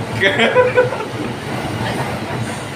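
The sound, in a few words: train passing by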